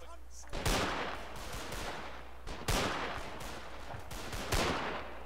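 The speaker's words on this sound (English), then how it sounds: "I've been hit twice by a shotgun." Shotgun fire in the Mount & Blade Anglo-Zulu War video game comes as three loud, booming blasts roughly two seconds apart, each with a brief rolling tail, mixed with faint scattered shots in between.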